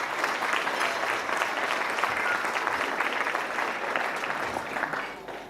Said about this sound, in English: so big round of applause for the winners.